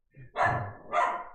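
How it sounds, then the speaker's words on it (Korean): A pet dog barks indoors in two loud, close, separate bursts, with a faint bit of background noise between the barks. "우리 강아지 새끼가 왜 이렇게 떠드나?"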